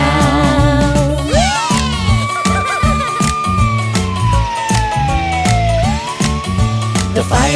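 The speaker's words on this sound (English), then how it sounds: "The fire truck siren goes wee-o, wee-o, wee-o." Fire truck siren in a preschool nursery rhyme song, a loud wailing tone that sweeps up and down over busy, bouncy music.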